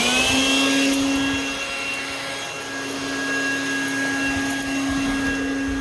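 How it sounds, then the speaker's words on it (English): A homemade supercharger blower fitted to a 1991 Chevy S10 pickup runs with a loud, steady, vacuum-like roar and a high whine, holding continuously throughout with slight swells in level. "I'm going to turn the blower on, try to start the truck, and not press the gas pedal at all."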